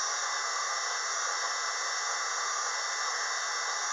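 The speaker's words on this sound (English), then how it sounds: "it is peeling this steel, the stainless steel, off at a very nice rate" A Unimat SL1000 hobby lathe cuts 304 stainless steel, giving a steady, unbroken high-pitched whine with a hiss of the tool peeling a chip, close by and constant throughout with no talk.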